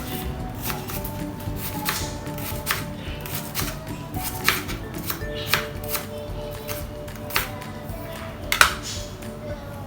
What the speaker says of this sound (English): For onion you just try to cut it as small as you can.